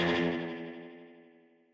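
A guitar note runs through an Axe-Fx III quad tape delay with feedback turned up, its repeats smearing into a dense, chorused wash that decays smoothly over about two seconds, with no talking.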